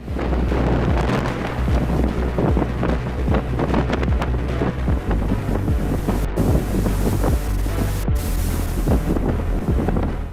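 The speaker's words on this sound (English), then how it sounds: "A ship carrying cars got trapped in a fierce storm." A car-carrying ship caught in a fierce storm at sea, with 26-foot waves swamping the vessel: loud, continuous roaring wind and crashing, churning water fill the whole stretch with no voices.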